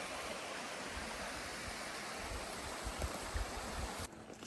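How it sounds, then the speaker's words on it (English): A forest creek on the Appalachian Trail rushes steadily as a broad, hissing wash of water, close and unbroken, then drops sharply quieter near the end. "That's the creek we just crossed."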